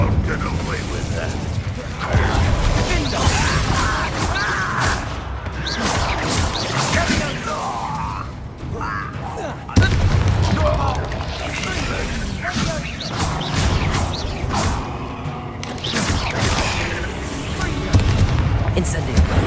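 Bombarda blasting spells and combat effects in Hogwarts Legacy, a steady dense clatter of booms, impacts and crashing debris with repeated bursts across the fight, loud and continuous, with spoken voices mixed in.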